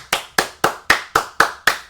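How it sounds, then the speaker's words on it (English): Seven sharp, evenly spaced hand claps, close and loud, each with a quick decay, in a steady rhythm with no talking. "Let's clap it up."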